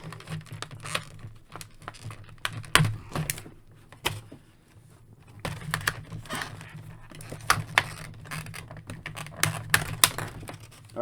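A Marvel Select Captain America Winter Soldier action figure is pulled free of its plastic packaging, with close, irregular crackles, taps and rustles that come in clusters and pause briefly midway.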